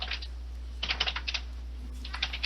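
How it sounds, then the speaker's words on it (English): Someone types on a computer keyboard close by: quick clusters of light clicking keystrokes with short pauses, over a steady low electrical hum and no speech. "I can hear Squato typing up and looking for this"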